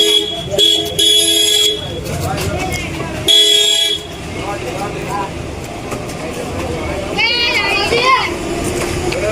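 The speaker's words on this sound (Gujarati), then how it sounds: "ટ્રાફિક વધી ગયું સાહેબ." Busy road traffic with car horns tooting repeatedly, some short and some held, over a steady rumble of passing vehicles, with voices and children chattering close by.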